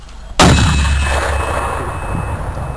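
A single loud, booming mortar round fires during a Canadian Forces bedding-in mission, a sudden blast followed by a long, roaring, reverberant decay across open ground.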